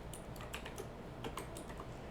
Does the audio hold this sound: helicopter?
no